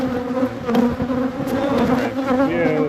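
Dense, close humming of many honeybees packed in an overwintered hive, a steady buzz with a few louder swells and faint background voices.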